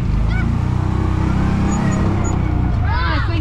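Engine of a Kawasaki Mule 3010 utility vehicle running at a steady speed after a tune-up, a loud continuous droning rumble with faint squeaks on top, close to the microphone throughout.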